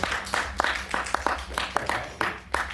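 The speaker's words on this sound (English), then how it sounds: "keep that applause going" Scattered clapping from a small audience at a guitar clinic, sharp individual claps landing in a loose uneven rhythm, fairly quiet and close, with no one speaking over it.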